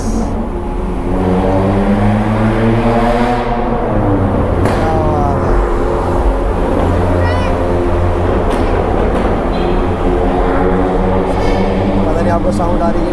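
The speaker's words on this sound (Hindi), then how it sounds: "बट टनल में इस गाड़ी की आवाज़" A loud, steady car engine drone echoes in an enclosed space, with a continuous low rumble and a voice speaking over it.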